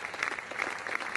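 Recorded applause played back during a talk, a brief burst of steady clapping at moderate level with no voices over it.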